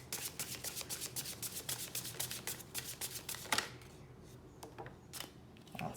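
A deck of oracle cards is shuffled up close in a rapid, rhythmic series of soft riffles, followed by a few slower slides and taps as the shuffling winds down.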